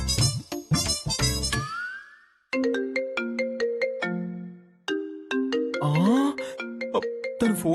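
A mobile phone rings for an incoming call, playing a bright melodic ringtone in repeated phrases of distinct notes with short pauses between them, clear and close.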